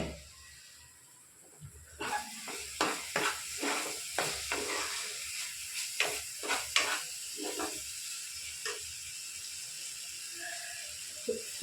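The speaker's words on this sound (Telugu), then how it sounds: "కొంచెం మనం డక్కన తీసి కలుపుతామండి" An egg curry with onions gets stirred in a pot once the lid is off, giving a steady soft sizzle with a string of scraping clinks from the spoon against the pot, and no one speaking.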